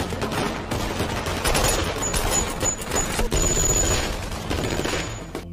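A film shootout breaks out during a deal gone wrong, with dense, loud bursts of gunfire and machine-gun volleys crackling close and continuous for several seconds, no voices.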